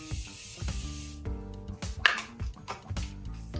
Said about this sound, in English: It will stick more if you use your hydrating spray or the setting spray.